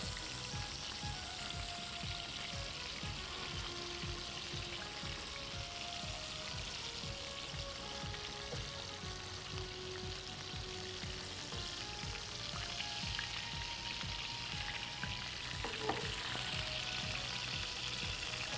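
Gola kebabs shallow frying in a little oil, a steady dense sizzle and crackle that stays even and close throughout, with no talking over it.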